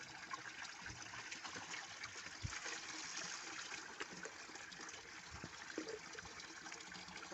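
Water trickling and running steadily at a rural village water source where people fetch water, a continuous close wash of flowing water with occasional small splashes and no talk.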